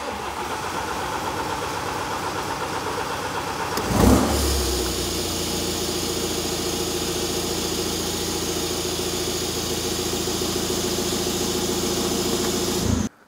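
A BMW N47 engine, freshly fitted with a replacement timing chain, cranks briefly and catches with a loud burst, then settles into a steady, smooth idle that runs for several seconds before cutting off abruptly.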